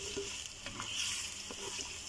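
Onions frying in hot cooking oil in a kadai for dhaba-style bhindi masala hiss steadily, faint and close, with a few soft stirring scrapes over the sizzle.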